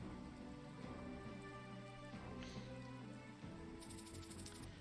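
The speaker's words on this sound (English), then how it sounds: "I remember when missions in the rain were fun." Rain falling in the video game Troubleshooter: Abandoned Children, a steady soft hiss of rainfall under a game music bed, fairly quiet and without talk.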